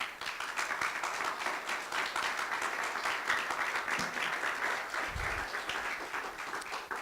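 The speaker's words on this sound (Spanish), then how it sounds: "denle un aplauso al Espíritu Santo." Church congregation applauding during a Sunday service, a sustained dense round of many hands clapping with individual sharper claps audible, steady and moderately loud throughout.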